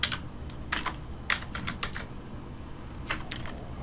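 Fingers tap on a computer keyboard in a quiet room, with irregular sharp clicks and short clusters of keystrokes over a low background hum and no talking.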